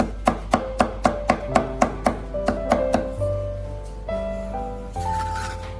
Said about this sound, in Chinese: 再改刀将大蒜切成蒜末